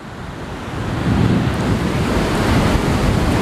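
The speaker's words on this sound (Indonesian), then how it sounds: "si angin laut dan suara ombak ini harusnya terhalang sama badan gue" Sea waves wash steadily near the shore while gusts of sea wind buffet a Saramonic Blink 500 lavalier microphone worn on the body, making a loud, continuous rumbling roar that swells after the first second.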